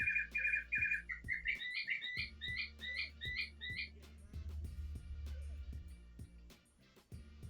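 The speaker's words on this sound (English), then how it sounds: "There has been a bird." A bird chirps in quick, bright, repeated bursts for the first few seconds over a low, steady background hum with soft thumps.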